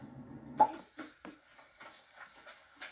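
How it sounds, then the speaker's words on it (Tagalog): Faint bird chirps scattered over a few seconds, with a sharper call near the start and soft background noise. "Ang mga huni ng ibon."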